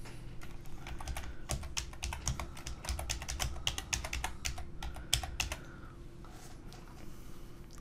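Fast, steady typing on a computer keyboard, clicky keystrokes in quick bursts over a low room hum, close and moderately quiet, with no voices.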